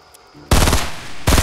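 Loud bursts of rapid gunfire from a weapon in Fortnite, a short pause then a long rattling volley, a gap, and another burst, close and dominant with no talk over it.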